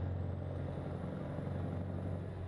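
Steady, low diesel rumble of a Peterbilt truck driving in American Truck Simulator, continuous and even throughout, with a faint rising whine above it and no talking.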